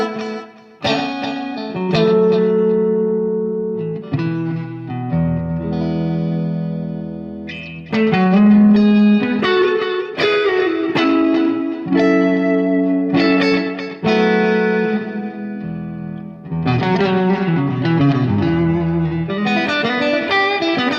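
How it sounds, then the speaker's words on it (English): Electric guitar played through a Super Reverb amp with the tape echo switched off rings out in loud, clean chords and single notes, with pauses between phrases and no talking. "I'm going to disengage the drives and just let you hear naked super reverb here"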